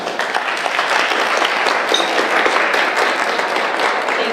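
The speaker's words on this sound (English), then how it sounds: "give you a big round of applause" A large audience at a business event gives a big round of applause, dense steady clapping at an even level from start to finish with no talk over it.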